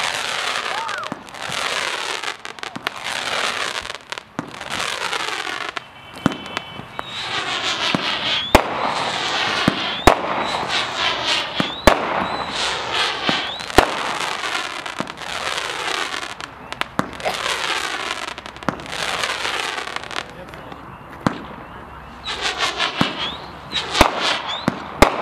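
Twenty-shot 1.4g consumer firework cake called Crazy Midnight firing at a demo night, a long run of rhythmic launches and crackling bursts, each followed by a fizzing tail, loud and fairly near with voices in the background.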